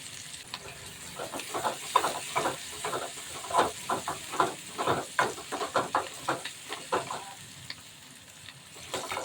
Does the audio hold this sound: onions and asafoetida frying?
yes